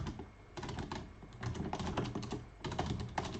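Rapid clattering of keys on a computer keyboard, typed in quick irregular bursts with brief pauses, close and fairly clear.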